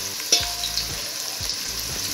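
Onions with cinnamon, cloves and cardamom sizzle steadily in hot oil for Ambur-style mutton dhalcha, with a few soft stirring scrapes over the constant frying hiss.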